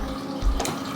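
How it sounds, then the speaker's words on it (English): Water pouring from a tap or jug into a cooking pot of goat meat for Nigerian stew, a brief splashing fill that swells in the middle, close and moderately loud. "So I'm going to add extra water to the meat."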